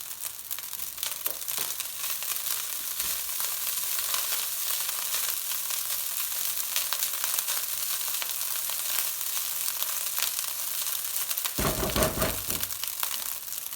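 Garlic chilli fried rice, made with hot freshly cooked rice in Indian restaurant style, hisses steadily in a hot pan, with occasional louder stirring and tossing bursts near the end, close up and with no talking.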